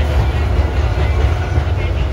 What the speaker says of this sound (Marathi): अभी हम फाइनल ट्रेन में बैठ गए हैं. सौसर से ट्रेन छूट गई है